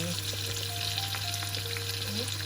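Large shrimp fry in a pan, giving a loud, dense, continuous sizzle close up with faint stirring underneath.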